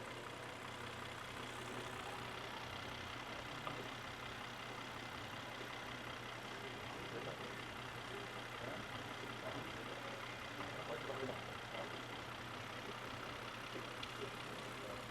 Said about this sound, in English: It has milk inside the engine, and the engine is not dying.